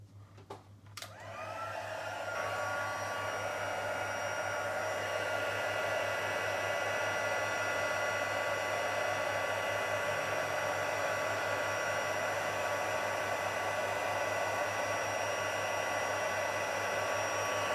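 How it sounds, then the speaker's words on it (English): A heat tool melting embossing powder starts with a click and then blows a steady, loud, continuous whooshing hum close by, alone and unbroken. "So I'm going to bring my heat tool and let's just heat up that powder."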